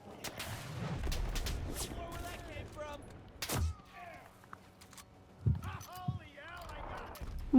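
Gunfire in the World War II shooter game Enlisted, several sharp shots and bursts spread unevenly among clanks and game effects, with someone talking between them.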